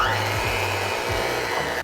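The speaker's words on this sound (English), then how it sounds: "Mix all of this together thoroughly." Cookie dough with vanilla and almond being mixed by an electric mixer: a loud, steady motor whir with a wobbling low hum that runs continuously and cuts off at the very end.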